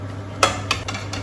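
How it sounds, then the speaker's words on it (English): Shredded cabbage dropped into a pan for spring roll filling, with a few quick scraping clatters of a utensil against the pan over a low steady hum. "Now I will add the cabbage."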